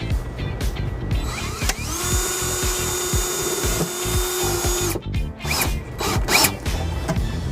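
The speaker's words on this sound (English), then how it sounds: "So I have my drill in place and we're ready to secure this ground wire." A cordless power drill drives a screw to secure a trailer ground wire on a 2020 Honda HR-V, whining steadily at close range for about three seconds, with clicks and handling noise before and after.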